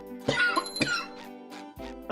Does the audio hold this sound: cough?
yes